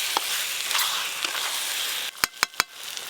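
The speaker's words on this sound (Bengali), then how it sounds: "খুব ভালো করে এবার খাসির মাংস কষে নিতে হবে।" Mutton being stir-fried in a pan with a steady hiss of frying, ended by three sharp scraping strikes of a spatula near the close.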